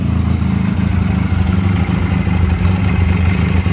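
Futong Prince 250 motorcycle engine running, heard close up from the generator cover side: a steady, even idle with a fast regular mechanical pulse and continuous hum, no other sounds.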